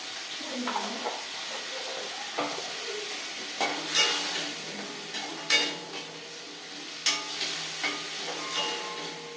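Tomatoes for dal sautéing in a pan make a constant close sizzle, broken by periodic clinks and scrapes of a metal spoon stirring. No one talks.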